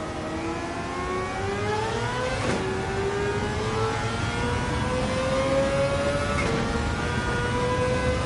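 Mazda RX-7 with a swapped engine in Gran Turismo 7, a loud steady engine drone climbing in pitch as it accelerates through gears, with brief dips at each shift, no talking.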